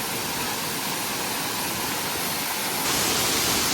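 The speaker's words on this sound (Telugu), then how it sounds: "ఇన్సైడ్ ఆఫ్ ద సిటీలో ఇంత మంచి వాటర్ ఫాల్ అంటే ఇట్స్ అమేజింగ్" A waterfall inside the city of Columbus roars as a dense, steady wash of broadband noise, loud and unbroken with no voices, growing slightly stronger toward the end.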